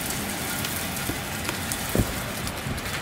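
Heavy rain pours down outside, a steady dense hiss of drops hitting surfaces with a few louder splashes, no voices.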